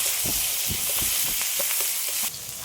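Chopped tomato frying in hot oil for a papaya and live koi fish curry, a loud steady sizzle with several soft stirring clatters.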